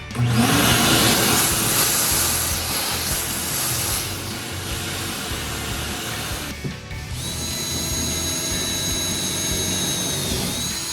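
A shop vacuum sucks sawdust out of a routed cut in a MEGACADE arcade cabinet, giving a loud, steady roaring whine that dips briefly partway through before resuming at full strength.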